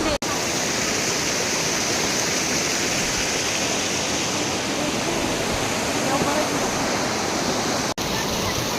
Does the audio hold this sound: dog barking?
no